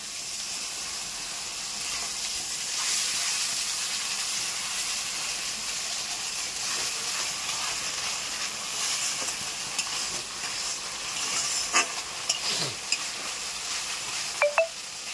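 Tomato puree hitting a hot pan for prawn malai curry, a steady broadband sizzle and hiss that stays even throughout, with a few sharp stirring clicks and scrapes near the end, no voices.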